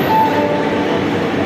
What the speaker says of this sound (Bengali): অনেকক্ষণ দাঁড়িয়ে থেকে থেকে অনেকক্ষণ পরে ট্রেনটা আসলো।